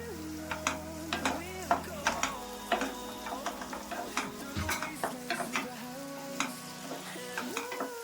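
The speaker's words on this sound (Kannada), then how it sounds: "ಇದನ್ನ ಒಂದ್ ಸ್ವಲ್ಪ ಎಣ್ಣೆಲೆ ಫ್ರೈ ಮಾಡ್ಕೊಂಡ್ಬಿಡೋಣ" Onion and carrot fry in oil while a utensil stirs them. Quiet, steady sizzling runs under frequent light clicks and scrapes against the pan, close up, with no speech.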